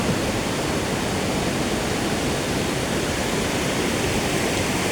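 Fast floodwater rushes steadily around and beneath a raised house in Ban Kok Kok, a loud, continuous broadband roar like a torrent, with no voices.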